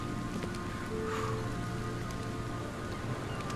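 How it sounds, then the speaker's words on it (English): Rain in the video game The Sinking City, a dense continuous hiss of downpour on surfaces with a faint low hum beneath, steady and unbroken, no talk. "I guess it is raining"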